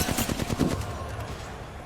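Rapid automatic gunfire in the battle royale game Apex Legends, a short quick burst of shots lasting under a second, then fading into quiet game ambience.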